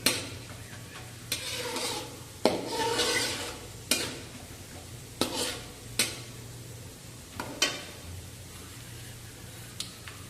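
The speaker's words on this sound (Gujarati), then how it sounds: "હવે ડાળિયા, તલ અને વરિયાળીને થોડી વાર સાતળવા દઈશું." Roasted gram, sesame and fennel seeds sautéing in a pan for chevdo: a soft, steady sizzle broken by repeated scraping stir strokes and sharp taps of a spoon against the pan every second or two.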